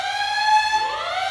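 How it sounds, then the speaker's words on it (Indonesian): A loud, steady electronic alarm tone sounds continuously at a student protest, with a slight pitch sweep near the end and no voices. "ajak kawan-kawan untuk dengar alarm ini"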